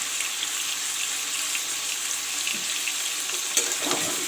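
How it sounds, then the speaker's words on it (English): Pumpkin pieces frying in a pan, a steady close sizzle with a faint scrape or two toward the end. "I will let this fry."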